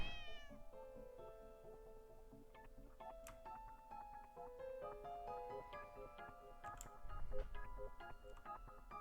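A cat meows in the video game The Cat Lady, several drawn-out, tonal mews spread across the clip, fairly quiet against a soft background.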